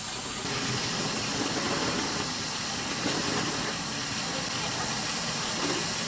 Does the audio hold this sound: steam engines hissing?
yes